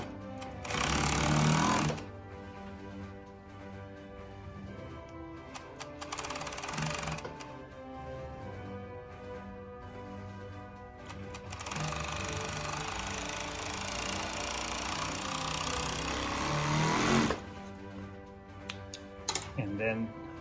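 Fusion 757 five-thread overlock sewing machine stitching in rapid whirring bursts, a short run followed by longer steady runs, close and fairly loud, with quiet pauses between.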